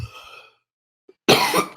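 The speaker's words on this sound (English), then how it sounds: "I have to cough." A single sharp cough bursts out close and loud after a quiet pause, with a second short burst right after, set on a sports talk show.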